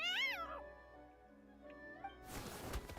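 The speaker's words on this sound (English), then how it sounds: "Prune yanks the tail, eliciting a pained yelp." A two-tailed cat character yelps in pain as her tail is yanked in the Genshin Impact video game, a short wavering cry up front followed by quieter game sounds and a burst of noisy rustle.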